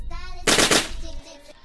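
Rapid burst of automatic gunfire from a gun in a video game, loud and dense for about a third of a second amid game sound effects, with tonal game audio before and after.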